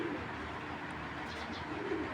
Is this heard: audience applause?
no